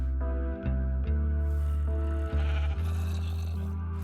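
Sheep in a dark survival video game bleat loudly and close, a string of long wavering calls with brief gaps between them, no voices over them.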